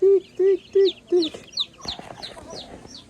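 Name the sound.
chickens clucking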